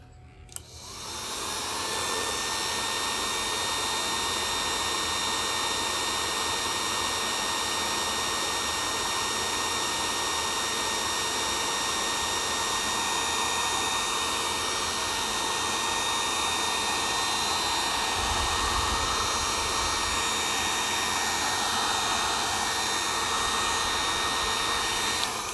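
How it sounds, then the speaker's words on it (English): A blow dryer blowing on a CD album starts up and then runs as a loud, steady whooshing roar with a constant whine, close by and uninterrupted for the whole stretch. "I have here a blow dryer, and watch what's going to happen to the album"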